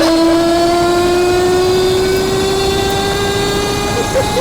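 A Citroen Ami driving flat out at about 80 miles an hour, its engine droning loudly and steadily with a slowly falling pitch, accompanied by heavy road and wind roar and no pauses.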